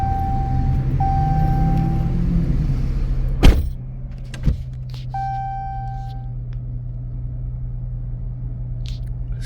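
A Dodge Challenger engine runs at a steady, deep idle with a constant low rumble and faint whine, broken by a couple of sharp knocks partway through.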